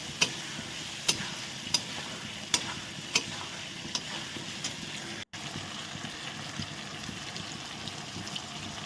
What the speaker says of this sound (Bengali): বাটা আর হচ্ছে কাঁচা লঙ্কাটা বেটে আলুর মধ্যে দিয়ে দিলাম এবার একটু নেড়ে আবার কষিয়ে নিচ্ছি